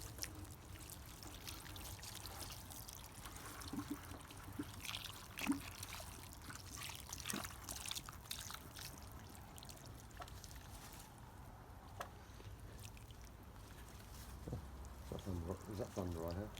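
Water pours gently into a garden container planted with plants, a soft steady trickle and splash running throughout at close range with light background noise, and gurgling bubbles rising near the end.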